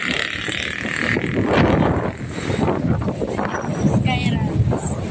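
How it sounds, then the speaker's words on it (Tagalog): Strong wind buffets an outdoor microphone beside Manila Bay and the Pasig River on a cold, rainy day, with a steady broadband roar and gusts, while a person talks intermittently over it. "Sobrang hangin dito."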